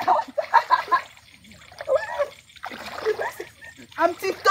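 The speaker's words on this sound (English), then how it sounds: "I'm tiptoeing in the water." Footsteps splash through shallow river water in short bursts of watery sloshing, with quiet gaps between them, while a person talks over the splashes.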